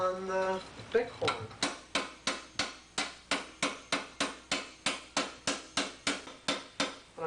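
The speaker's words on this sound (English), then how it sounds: "I'm going to continue turning this by simply hammering it down" Steel armour plate for a 14th-century Churburg arm harness is hammered down over a bighorn anvil, giving a steady series of about eighteen loud, ringing metallic blows at an even rhythm after a brief scrape.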